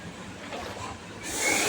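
In Minecraft, water is poured onto lava: a soft, low rush of sound swells into a brief, bright hiss near the end.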